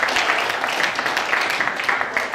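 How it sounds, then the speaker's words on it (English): Conference audience applauding the moderator, a dense steady burst of many hands clapping at moderate distance. "still the round of applause for our amazing moderator"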